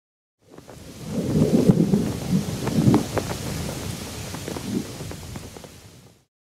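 Thunder rumbles low and heavy through a rain-soaked storm at sea, with rolling peaks and a steady wash of rain, dense and continuous with no voices.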